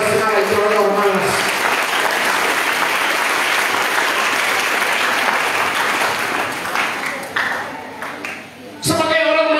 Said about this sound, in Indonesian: Kalau tepuk tangan jangan setengah-setengah lagi, orang malas.